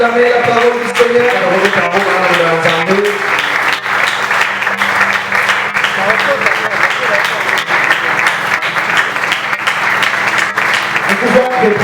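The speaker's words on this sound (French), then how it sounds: "Est-ce qu'on peut bien acclamer la parole du Seigneur?" Church congregation applauding and cheering loudly in sustained, dense clapping that continues steadily throughout, with voices mixed in.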